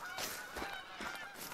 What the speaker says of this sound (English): I forgot about the geese.